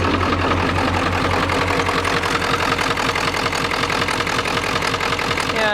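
Cold 1995 Ford F-350 XL Powerstroke diesel idles with a loud, steady, knocking clatter and an even rhythmic pulse, close by and alone.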